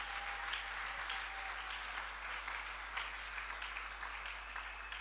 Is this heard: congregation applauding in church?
yes